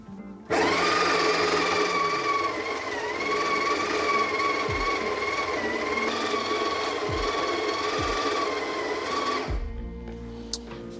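Breville Smart Grinder Pro grinding a single dose of coffee beans, a loud continuous motor whine with a steady high-pitched tone for about nine seconds, then stopping abruptly with a few clicks afterward.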